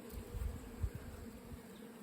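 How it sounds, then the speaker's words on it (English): Honeybees swarm over a beehive brood frame, a steady close buzzing hum with a few louder low swells as bees move near, no voices. "I got bees doing the waggle dance."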